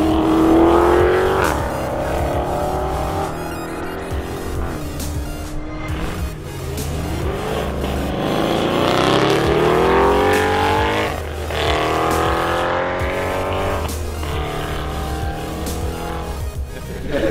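Red Chevrolet Corvette driving at a car meet at an airfield event, engine revving and rising through gear changes with tire squeal, loud and close throughout, no talk.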